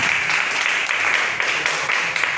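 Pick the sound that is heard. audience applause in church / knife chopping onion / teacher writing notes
audience applause in church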